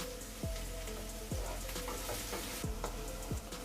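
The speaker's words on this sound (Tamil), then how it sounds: "இப்போ வெங்காயம் கொஞ்சம் வதங்கட்டும்." Chopped onions sautéing in a pan for a fish and prawn kulambu, giving a steady close sizzle with several scraping stirs of a spoon against the pan.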